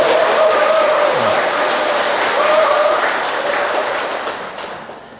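Audience applause fills a lecture hall, a dense, steady clatter of many hands with a thin tone running through it, then fading out over the last second.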